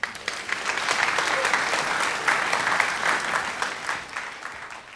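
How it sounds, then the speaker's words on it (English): Audience applause at a live tech talk in Sydney, Australia: a steady, dense wash of many hands clapping from the crowd, holding strong for about five seconds with no words spoken. "a big round of applause for Cameron, huh?"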